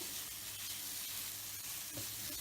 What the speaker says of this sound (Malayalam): ഈ തക്കാളി ഇതിൽ കിടന്ന് നന്നായി